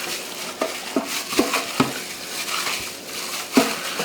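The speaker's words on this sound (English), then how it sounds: "Roll them around in there." Skinless chicken leg quarters rolled around in a bucket of wet brine marinade, with wet squelching and sloshing and several sharp knocks against the container, close and steady with no talk.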